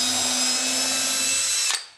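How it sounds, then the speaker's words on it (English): Power drill bores a hole in wood for a birdhouse hinge, a loud, steady whirring whine close by that runs nearly two seconds before winding down abruptly. "Let's go ahead and drill this hole first."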